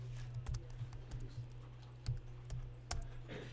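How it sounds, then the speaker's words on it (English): Keys clack as a date is typed on a computer keyboard during a Microsoft Word lesson, a quick run of close, moderately loud taps with irregular spacing over a low steady hum. "we're going to just simply start typing today's date"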